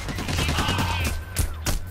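Frantic gunfire from the video game Payday The Heist crackles in a dense, loud barrage, with a couple of sharper bangs near the end.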